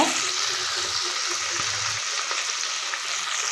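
Chopped tomato sautés in oil for mango sambar, a loud, continuous bright sizzle with a few soft stirring bumps underneath.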